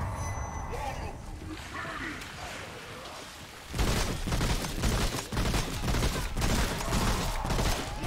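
Gunfire in the video game Remnant: From the Ashes, a dense, loud fusillade of rapid shots filling the second half, preceded by quieter game ambience, with someone talking over it.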